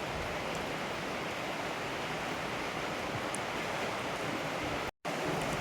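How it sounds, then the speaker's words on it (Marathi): A small waterfall near a village pours in a continuous broadband rush of falling water, steady and moderately close, with one very brief dropout near the end. "हा छोटा धबधबा आहे बघा"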